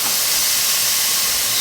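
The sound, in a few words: burgers frying in a pan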